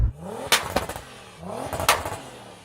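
A Ferrari SF90 with a non-stock exhaust revs twice, each sharp blip rising then falling away, loud and close.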